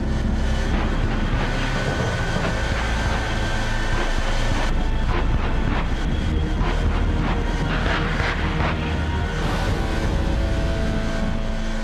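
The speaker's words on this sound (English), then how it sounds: "This truck is powered by 3 Pratt & Whitney J48 jet engines" A massive continuous roar from a truck powered by three Pratt & Whitney J48 jet engines, loud and unbroken, with crackling bursts rising midway through.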